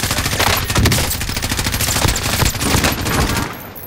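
Sustained automatic gunfire in Call of Duty: Modern Warfare, loud and dense, with overlapping rapid shots and bursts running almost continuously before easing off at the end.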